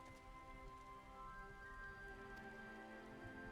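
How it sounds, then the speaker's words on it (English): Rain falls in the Final Fantasy XIV video game, a quiet steady patter under sustained musical tones, with no talking. "Raining out here."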